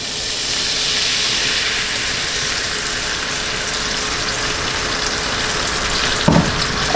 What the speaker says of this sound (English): I'm just gonna let the alcohol kind of cook off and let this simmer for a bit